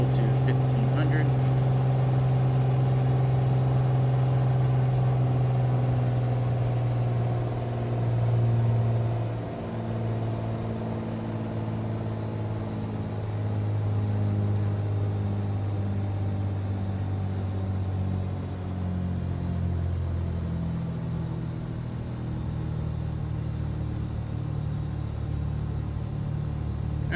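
Piper Turbo Arrow III engine idling in the flight simulator MSFS 2020, a steady low droning hum with a buzzy tonal edge that shifts slightly in pitch, running continuously throughout with a voice talking over it.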